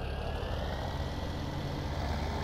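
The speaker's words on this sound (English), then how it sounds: "Back in the tractor." Tractor engine in Farming Simulator 17 running steadily with a low, continuous rumble, even and unbroken throughout, alone without talk.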